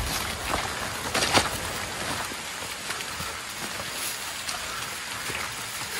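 Steady rain hiss on a trail near Hagdan-Hagdan Waterfalls in Mauban, Quezon, with scattered louder drops and patters, continuous and fairly close, no voices.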